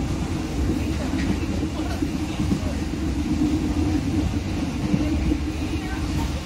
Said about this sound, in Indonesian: Rangkaian kereta